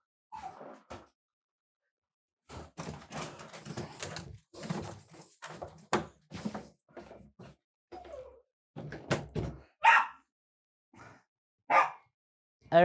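A house dog barks indoors at a cat that has entered a room he is not allowed in, letting out a string of sharp, fairly close barks in irregular bursts with short pauses between them.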